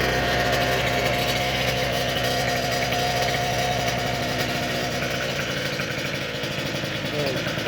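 A go-kart engine with its jetting still slightly off, fitted with a Mychron gauge, runs on a first start attempt, giving a loud, steady buzzing drone close by that holds throughout with little variation.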